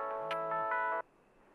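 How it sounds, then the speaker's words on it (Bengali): A mobile phone ringtone plays a short, bright electronic melody, close and clear, then cuts off abruptly after about a second, leaving quiet room tone. "আজব রিংটোন।"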